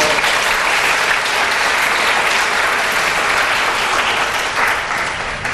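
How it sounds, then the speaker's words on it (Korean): A lecture audience of university students gives warm, sustained applause for bank CEO Kim Do-jin after a special talk and Q&A, a loud, dense, even wash of clapping that holds steady and eases slightly near the end. "우리 김도진 은행장님께 다시 한번 뜨거운 박수 부탁드립니다"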